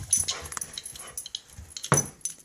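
Inside a house, a dog gives soft, intermittent whimpers and small yips, close by with quiet gaps between them.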